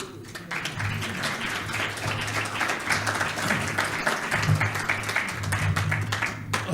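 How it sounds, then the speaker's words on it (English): Applause from an audience at an evening event marking ten years of multiple sclerosis research in New Zealand, a steady dense crowd clapping that is fairly close and continuous, with a faint low hum beneath it. "I think that deserves a round of applause"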